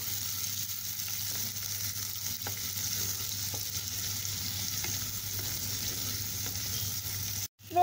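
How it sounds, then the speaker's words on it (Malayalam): Chopped ingredients dropped into hot oil and stirred in a pan for a fish curry, giving a soft, steady sizzle with occasional spoon taps before it cuts off abruptly near the end. "അപ്പോൾ എണ്ണയൊക്കെ ചൂടായിട്ടുണ്ട്. ഇനി നമുക്ക് അരിഞ്ഞ് വെച്ചേക്കണ എല്ലാം ഇട്ടെടുക്കാം."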